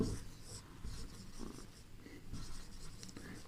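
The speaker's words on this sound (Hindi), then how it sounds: "रेड कलर से लिखेंगे नोट।" Red marker writing a note on a board during a chemistry lesson, a soft intermittent scratching and squeaking of the tip under low room noise.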